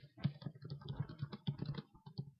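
Rapid, uneven keystrokes on a computer keyboard while a follow-up email message is typed, sharp close clicks in irregular bursts with brief pauses, no voices.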